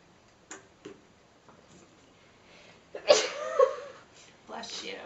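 A single sudden sneeze bursts out midway through a quiet room, followed by a softer voiced exhale and a little speech, with faint taps before it.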